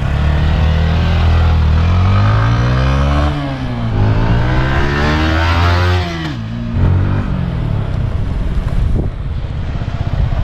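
A Yamaha R15 motorcycle is ridden with its engine revving up and down through rising and falling pitch sweeps, loud and close, with wind rushing past and no talking.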